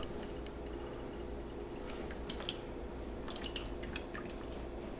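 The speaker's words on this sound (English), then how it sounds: "what we're going to add to the bowl first is 1 cup of buttermilk" Buttermilk is poured into a mixing bowl for red velvet cake batter, giving soft glugs and scattered wet drips over a quiet kitchen background.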